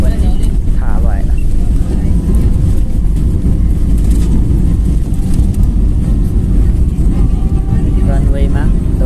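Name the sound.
airliner landing and running on the runway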